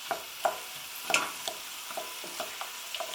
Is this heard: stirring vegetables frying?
yes